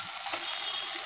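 Capsicum and tomato frying in a pan, giving a soft continuous sizzle that holds steady throughout at moderate level, with no talk.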